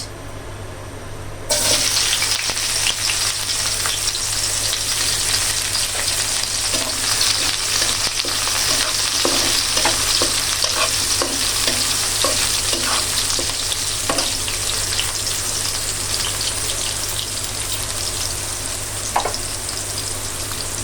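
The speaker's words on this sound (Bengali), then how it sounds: "একটু ভেজে নিচ্ছি পেঁয়াজটা" A generous amount of onions fries in a pan, giving a loud, continuous close sizzle that starts abruptly and holds steady, with small stirring clicks and scrapes throughout; no voices.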